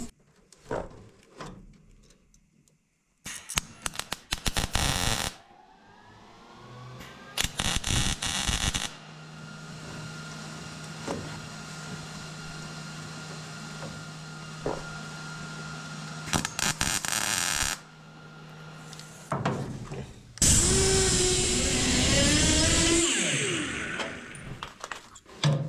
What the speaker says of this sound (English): Let's get that welded in.